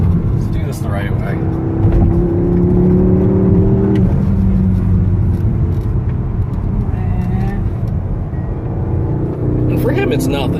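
A Porsche sports car accelerates on a daily drive, its engine giving a loud, steady rising drone that stays close throughout, with people talking over it.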